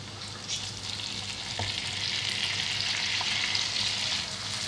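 Chopped tomatoes sizzle and fry in hot oil with garlic and ginger for a lentil dish, a steady close crackling hiss with soft stirring clicks and no talking.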